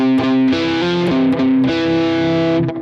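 A distorted electric guitar plays a hammer-on riff, a quick run of crunchy, sustained notes with a few muted chops, loud and close with no talking.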